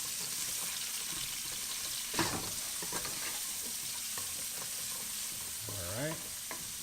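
Garlic sizzling in a hot pan before sirloin beef goes in, a steady frying hiss with occasional stirring scrapes and a brief clatter, close by.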